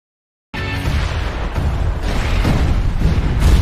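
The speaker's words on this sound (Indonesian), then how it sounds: "Akhirnya bom yang mereka pasang meledak dan monster itu berhasil hancur." A planted bomb detonates in the 2009 Japanese horror film Higanjima, bursting in abruptly after silence and rolling on as a loud, sustained, heavy rumble.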